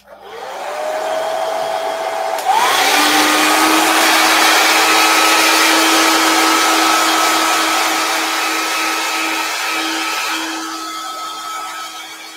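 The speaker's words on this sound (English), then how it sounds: "Okay, so this hair dryer, let me show you this really quick." Hair dryer blowing on fresh paint, a loud steady whoosh with a whining tone that shifts pitch as it runs, alone without talk, then easing off near the end.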